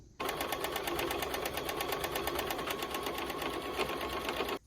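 A sewing machine runs steadily as it stitches a half-inch side seam on a squiggly top, its rapid even needle rhythm continuing close and loud without pause for several seconds, no talk.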